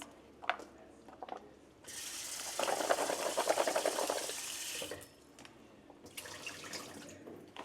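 Tap water runs into a kitchen sink for about three seconds as a handful of food is rinsed in a small bowl, a close, steady rushing splash framed by quieter clinks and handling noise before and after.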